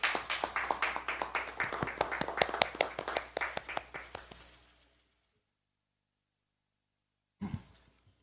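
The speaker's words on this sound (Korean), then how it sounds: "박수로 환영해 주시기 바랍니다" Audience applause welcoming a guest scientist at a Democratic Party candidate-recruitment ceremony, a burst of many hands clapping for about five seconds that fades out, then silence and a brief faint sound near the end.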